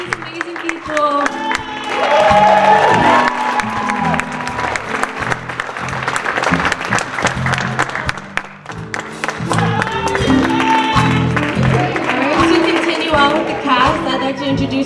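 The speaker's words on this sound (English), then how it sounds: "Give a good round of applause to these amazing people." Audience at a Justice Sunday 2022 event in the City of Lancaster clapping for the cast of performers, a sustained round of applause underneath and alongside a voice speaking over a loudspeaker.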